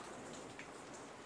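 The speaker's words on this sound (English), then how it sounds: "It's raining!" Steady rain falling at night in a film scene, a dense, even hiss of drops pattering on surfaces, moderately loud with no talking.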